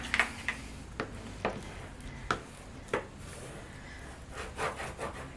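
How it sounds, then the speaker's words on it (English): Glued paper on an accordion-binding mini album being burnished smooth, heard as soft scattered rubbing and scraping strokes with brief sharper contacts, fairly quiet and close, with no talking. "give it all a good burnish so we don't have any lines of the glue showing later on"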